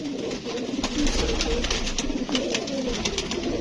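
A female Jośri pigeon coos in soft, rolling repeated phrases close by, with light rustling and faint background noise in a pigeon loft.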